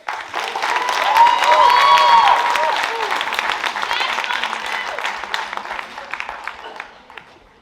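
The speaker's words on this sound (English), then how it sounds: "Please welcome him on stage with a round of applause." An audience at a school TED talk event applauds to welcome a speaker on stage, clapping building quickly, peaking early, then tapering off, with music-like tonal sounds mixed in during the first few seconds.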